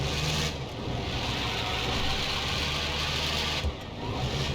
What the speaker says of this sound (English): It definitely sounds like the engine noise.